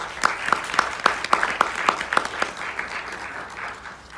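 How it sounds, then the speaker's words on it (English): A gathering of school counselors at a celebration in New York City claps in a quick, even rhythm, sharp regular beats that dissolve into looser, softer applause toward the end. "Please give yourselves a big round of applause"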